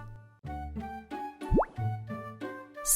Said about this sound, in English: Splash! The water goes everywhere.